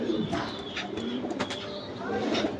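Giribaz high-flyer pigeons coo softly in a loft, low murmuring calls overlapping in a faint, continuous background.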